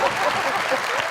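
An audience on a live comedy show claps in a brief, steady burst of dense applause, with a voice speaking over it.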